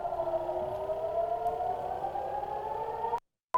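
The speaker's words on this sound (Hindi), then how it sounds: "एक बार फिर सायरन की आवाज आपने देखा," A droning air raid siren wails steadily from a distance, its pitch slowly climbing, then cuts off abruptly near the end.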